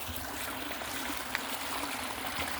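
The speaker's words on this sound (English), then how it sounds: "there's another waterfall" A small waterfall in a creek rushes and trickles steadily, a constant broad wash of flowing water with no voices over it.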